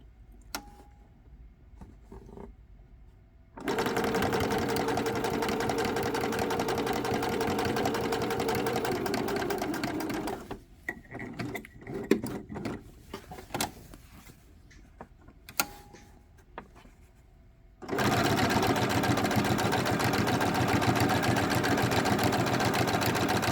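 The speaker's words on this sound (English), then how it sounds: "I want a second row of top stitching along the edge" Sewing machine running top stitching along the edge of an old garment being upcycled, with close, steady whirring runs of several seconds broken by quieter pauses of handling and small clicks before the motor starts again.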